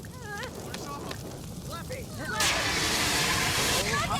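A roaring, hissing burst of flame flares up in The Sims 4 as a Sim catches fire in a cooking accident, swelling suddenly midway and holding steady, with chirpy game voices babbling underneath.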